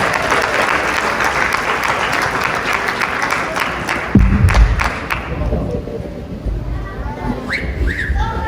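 Applause from an audience welcoming two volunteers at a conference, a steady dense roar of clapping with a few thuds near the middle, then thinning into scattered claps and light crowd noise.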